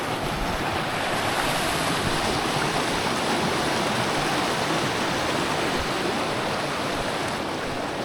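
A river rushes steadily beside a washed-out stretch of the Pacific Crest Trail, a loud, unbroken wash of flowing water with no voices and no pauses.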